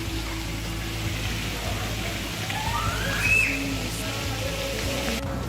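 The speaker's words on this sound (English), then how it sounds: "It's raining all over." Rain falling outdoors, a steady even hiss of drops hitting surfaces, with a faint rising tone like a distant siren in the middle.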